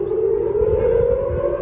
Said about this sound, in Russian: сирены воздушной тревоги звучали в центральной части Израиля